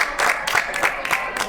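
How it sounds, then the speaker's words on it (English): Live audience applause and cheering welcoming a returning guest and former co-host at a live show, dense, close clapping with rhythmic accents throughout. "Big round of applause"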